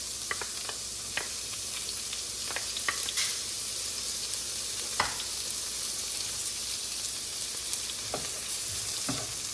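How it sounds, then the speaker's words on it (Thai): Onion stir-frying in hot oil over low heat, the base for a Thai stuffed omelette: a steady, close sizzling hiss runs throughout, broken by scattered clicks and scrapes of the stirring utensil. "พอน้ำมันร้อนใส่ หอมหัวใหญ่ลงไปนะคะ"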